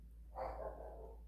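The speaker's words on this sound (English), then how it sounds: "sorry about the dog" A dog gives a single short, muffled bark somewhere off in the distance, rising briefly over a low steady hum and then fading, with no one speaking.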